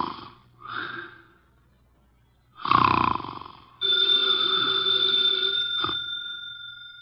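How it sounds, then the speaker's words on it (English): A heavy 300-pound man dozing with eyes closed, snoring and snorting through his nose in a few rough bursts, followed by a telephone ringing steadily nearby. "His eyes are closed, and he's making sounds through his nose."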